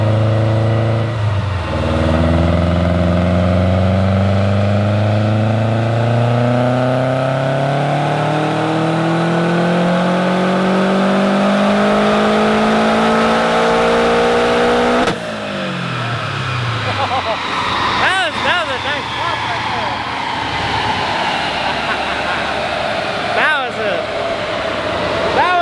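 A tuned Subaru WRX STI revs hard on a dyno pull, the engine note climbing steadily and loudly for many seconds before the throttle lifts, then crackles and pops as it winds back down, close and dominant.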